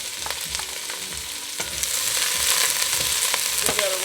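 Onion and garlic sauté in hot oil while being stirred, making a continuous sizzle that swells noticeably louder partway through, with light scraping from the stirring and no talking.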